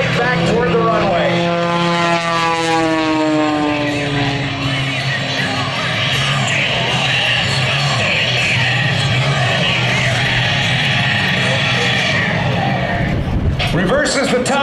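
Aerobatic propeller airplane engine during a double tumble maneuver, a droning buzz whose pitch sweeps and falls as the aircraft swaps ends, heard from a distance under continuous commentary.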